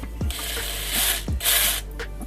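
A hand drill's chuck is twisted tight, giving short bursts of ratcheting clicks in a few quick turns, close by.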